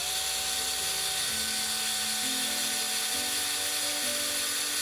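A high, whining electric drill runs continuously, its motor pitch shifting up and down slightly as it spins, close and steady with no talking, used on an old golf ball.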